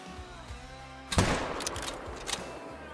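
A hunting rifle fires at a whitetail buck about 300 yards away in the Call of the Wild game, a single sharp report breaking through quiet outdoor ambience, followed by a brief rolling echo.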